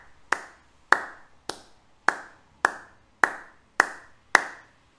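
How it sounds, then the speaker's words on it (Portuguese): Eight sharp, high-pitched hand claps spaced evenly about half a second apart, crisp and close, each with a short decay, with no talking. "Primeiro a gente vai começar com a nossa palma mais aguda."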